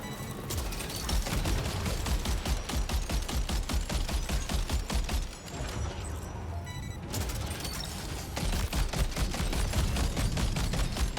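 Rapid, continuous gunfire from the video game Death Stranding 2, dense bursts hammering loudly for most of the stretch with a brief slackening in the middle before the shooting resumes at full intensity.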